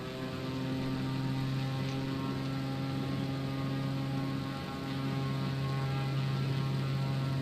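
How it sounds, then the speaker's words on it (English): Simulated Extra aerobatic stunt plane in Microsoft Flight Simulator 2020 taking off over the Michigan backwoods, its propeller engine giving a steady, loud drone with a strong low tonal hum that holds even throughout. "This is a stunt plane, aerobatic plane."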